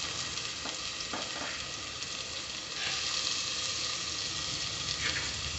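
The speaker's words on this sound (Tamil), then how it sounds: "இப்போ இதை நல்லா வதக்கி விட்டுக்கோங்க." Onions sautéing in a pan for Tamil-style intestine (kudal) curry, a steady broadband sizzle with brief stirring scrapes, close and fairly loud, no talking.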